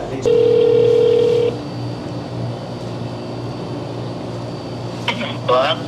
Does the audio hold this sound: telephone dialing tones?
yes